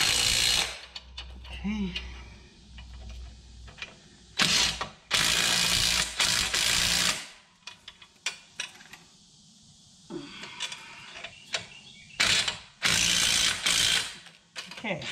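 A hand ratchet clicks in quick bursts, tightening U-bolts on heavy-duty leaf springs of a 2016 EZGO RXV golf cart, with clanking tool and metal handling sounds between strokes and a brief spoken word.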